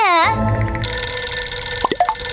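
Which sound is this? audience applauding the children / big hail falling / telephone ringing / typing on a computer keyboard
telephone ringing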